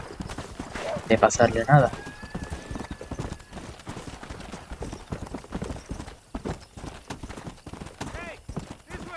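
Horse hooves clip-clopping in Red Dead Redemption 2, a steady rhythmic trot running throughout, with a neigh near the start and people speaking over the hoofbeats.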